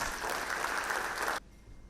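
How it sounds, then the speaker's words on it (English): Applause from the audience at a mechanical engineering summit fills the hall as a dense, steady clapping that cuts off abruptly partway through, leaving near quiet. "let's greet Mr. Bukart with a round of applause"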